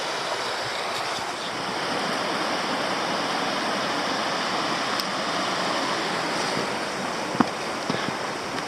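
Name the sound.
water cascade at Black Glen Falls, Tasmania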